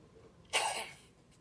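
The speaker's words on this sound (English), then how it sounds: "He's coughing like crazy" One sharp, breathy cough up close, brief and isolated against quiet background noise.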